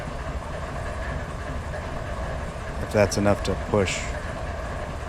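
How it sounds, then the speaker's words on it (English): A coal train with a distributed power unit being throttled up in Run 8 Train Simulator gives a low, steady diesel rumble throughout, with someone briefly speaking over it near the end. "So now I'm just going to throttle up the DPU"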